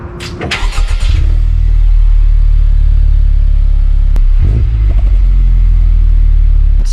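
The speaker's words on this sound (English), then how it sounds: "I'm gonna give you guys a startup because I don't really think I've given you one of these yet." A car engine cranks with a quick stutter, catches and settles into a loud, close, steady idle with a low rumble and a slight rev partway through.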